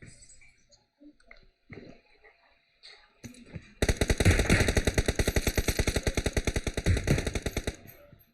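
Gunfire in the mobile game PUBG Mobile: after a few scattered shots and quiet handling sounds, a long rapid automatic burst rattles steadily for about four seconds, loud and close, with no talk.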